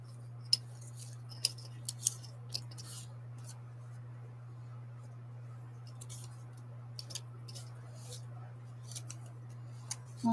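Scissors cut paper scraps for a collage in a quiet room. Sparse, faint, crisp snips arrive irregularly over a low steady hum.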